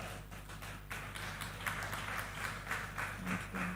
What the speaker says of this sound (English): Can you put a round of applause for her?